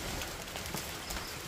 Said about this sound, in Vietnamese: Cũng hơi hơi mưa nhỏ hơi nhỏ đây.